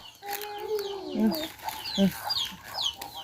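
Chickens cluck close by in a Thai rural home setting, several short clucks and calls over about three seconds, with faint bird chirps in the background.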